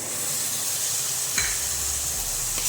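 Ground tomatoes hitting a hot pan of mixed spices, a steady sizzling hiss with a brief sharper burst of frying partway through, close and continuous, with no talking.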